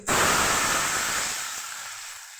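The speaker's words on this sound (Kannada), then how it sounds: "ನೋಡಿ, ಚೆನ್ನಾಗಿ ಸ್ವಲ್ಪ ಕುದೀತಿದೆ." Tamarind gojju with dried chillies, garlic and curry leaves bubbles in a pan, giving a loud, steady hiss that starts abruptly and slowly fades, with no voices.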